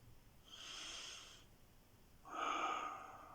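Two soft, airy breaths, each drawn in through the nose and lasting about a second, with a short pause between them, close and quiet in a calm meditation setting.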